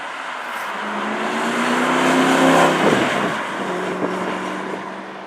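A Ford GT sports car engine drones and swells as it accelerates, then the pitch dips with a gear change before settling into a steady cruise.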